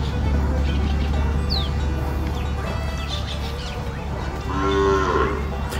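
A three-month-old pure Gyr bull calf moos once in a drawn-out call near the end, over a steady low farm hum with faint bird chirps.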